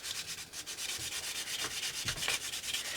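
Hand sanding a plastic safety-glasses lens with fine sandpaper, removing burrs so it fits the frame: steady close scratchy rubbing with repeated short strokes and no talk.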